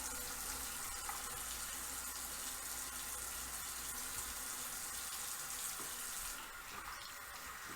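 Water runs steadily from a tap while someone rinses off after a shave, a constant hiss with a slight change in the last second.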